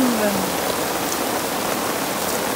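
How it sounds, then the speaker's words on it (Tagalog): Heavy rain from a storm pours down at a riverside campsite in a steady, dense hiss that continues without a break throughout, with no voices. "napakalakas ng ulan"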